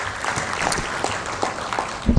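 Audience at a Uganda–Kenya coast tourism conference giving another round of applause, a brief burst of dense clapping at close range with individual claps standing out.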